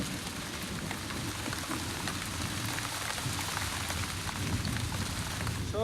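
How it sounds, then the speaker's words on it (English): Steady pouring rain with a dense, continuous hiss that holds at an even loudness throughout, sounding close and enveloping, with no voices. "Pouring rain and blowing a hurricane ever since."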